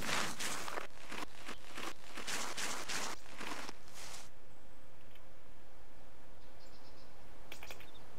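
Footsteps in the military shooter game Arma 2 sound as a quick, steady run of close scuffing steps over about four seconds. They stop, leaving faint insect-like ambience with a thin tone.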